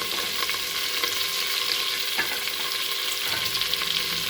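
Curry leaves, mint and coriander fry in a pan with a continuous crackling sizzle, broken by a few sharp scrapes and taps of a stirring spoon close by.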